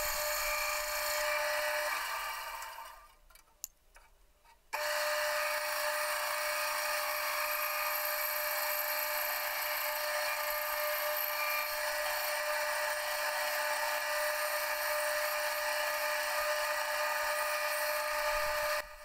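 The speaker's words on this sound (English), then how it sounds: "all you really need is a bandsaw" An old bandsaw makes a loud, steady, whining drone while cutting wood for guitar wall mounts. The tone briefly drops away and spins down, then comes back and runs continuously.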